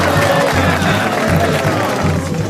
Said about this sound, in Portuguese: Palmas para a roupa da Jassanã.